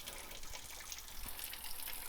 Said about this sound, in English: We're on a well and it takes my water a little bit to get hot, which is why I'm letting it run right now.